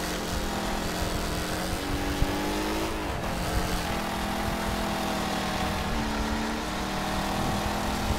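Cars racing in the video game Wreckfest, a Mustang engine droning steadily with rising and falling revs over a continuous roar of other cars, loud throughout with no talk.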